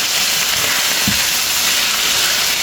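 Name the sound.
garlic and onion sautéing in a pan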